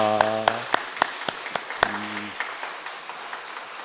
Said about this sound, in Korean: 우리 큰 박수로 격려하겠습니다